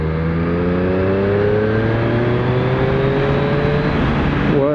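A Triumph 765 Street Triple RS motorcycle accelerates hard in fourth gear from about 50, its engine note climbing steadily in a loud, close, continuous wail before easing off at the end.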